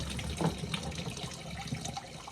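Water pumped by a small hand pump from a 5-gallon bucket into a kitchen sink in an off-grid home, a faint, steady trickle and splash running for a couple of seconds with a slight gush near the start.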